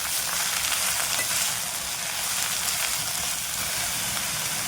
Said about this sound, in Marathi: आता आपण त्यामध्ये मेथीची भाजी जी चिरून ठेवलेली आहे ती घालायची आहे आता आपण मिक्स करायची आहे भाजी हे बघा परतून घ्यायची आहे